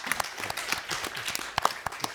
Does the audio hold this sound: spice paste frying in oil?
no